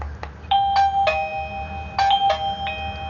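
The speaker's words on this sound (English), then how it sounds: "now I have a chime synced with my doorbell" The chime of an ieGeek 2K doorbell camera rings twice, each a clear, loud two-note ding-dong with ringing tails, heard up close with nothing else around it.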